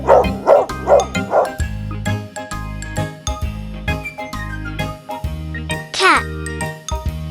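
Cartoon farm dog barks in a quick series of four loud woofs over bouncy music with jingles, followed by more music and a rising yelp-like call.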